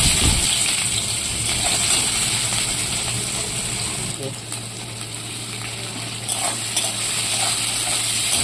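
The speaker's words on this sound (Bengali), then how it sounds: "এবার পেঁয়াজ কুচিটা দিয়ে দেবো।" Chopped onion goes into hot oil with whole cloves, cinnamon and other spices for a fish-roe curry, giving a loud, continuous close sizzle with scraping stir strokes in the pan.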